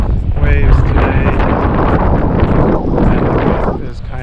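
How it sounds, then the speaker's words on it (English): Strong wind on a Florida beach with waves buffets the microphone in heavy, continuous rumbling gusts that stay loud and close throughout. "So it's pretty windy today, as you can see or you can hear."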